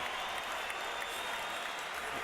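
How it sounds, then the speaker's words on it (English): Boxing fans at a Saul Alvarez vs Shane Mosley fight night stand and cheer, a constant, distant roar of crowd noise and applause filling the arena without a break. "these fans are standing, cheering"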